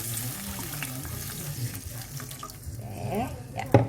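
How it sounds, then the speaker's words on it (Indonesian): Thin coconut milk poured into a hot pan of spice paste for a kluwih lodeh, a steady watery hiss and sizzle that swells near the end, with faint talking underneath. "saya masukkan santannya terlebih dahulu yang saya encer ya"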